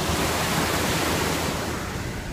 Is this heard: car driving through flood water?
yes